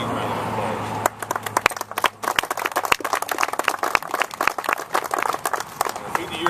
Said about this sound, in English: I think we need to give her a big, big round of applause.